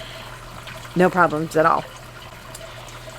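Water trickles steadily through the tank of a Tower Garden Flex growing system, a faint continuous wash beneath a low hum while a person speaks briefly.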